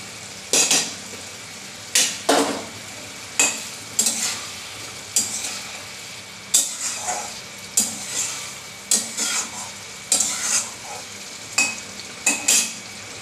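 A spoon stirs and scrapes through Bengali fish curry in a pan just after coriander leaves go in. A dozen or so sharp, close scrapes come at an uneven rhythm over a soft sizzle, with no talking.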